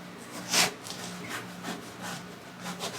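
A cloth rubs excess stain off a rustic wooden queen headboard in repeated soft scrubbing strokes, with one louder swipe early on, close and fairly quiet.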